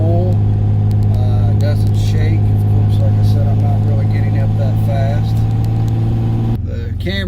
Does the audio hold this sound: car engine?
yes